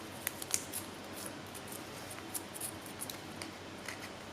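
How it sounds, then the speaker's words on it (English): Protective paper is peeled off a heated, still-sticky plastic sheet during heating and bending in a design and technology workshop, making faint, close crackles and small tearing ticks over a quiet hiss. "Pulling all the paper off."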